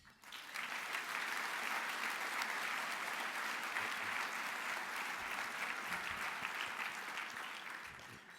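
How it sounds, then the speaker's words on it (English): A gala audience gives a warm, sustained round of applause for award contestants, the dense clapping swelling quickly and holding steady before tapering slightly at the end, with no talk over it. "Let's have a warm round of applause for all contestants."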